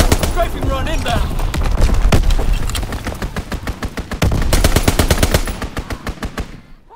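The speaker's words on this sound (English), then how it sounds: "Strafing run inbound." A strafing run in Call of Duty WWII: rapid, loud machine-gun bursts rattle in dense repeated volleys, with a voice talking over the din.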